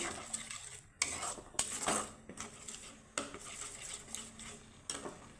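Spice masala with turmeric and salt stirred and fried in a pan for a Bengali vegetarian dish, with repeated scraping clinks of a spoon against the metal pan and a faint sizzle, close and alone.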